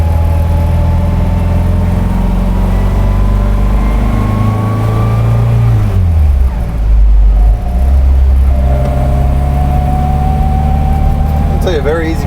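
A restored MG MGA 1500 coupe drives along, its engine droning steadily and loudly up close, with pitch rising and falling through gear changes and road noise beneath.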